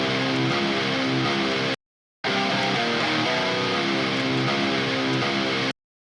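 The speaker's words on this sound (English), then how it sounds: "Let's start with the guitar, and it sounds like this." A dense, distorted heavy metal guitar plays loud sustained chords, cutting out briefly for a short silence before resuming and stopping abruptly.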